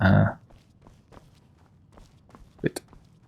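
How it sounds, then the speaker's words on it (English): Footsteps in Skyrim tread softly and evenly after a brief loud burst at the start, a string of quiet, regular steps ending in a sharper, louder footfall near the close. "Thought I heard footsteps behind me."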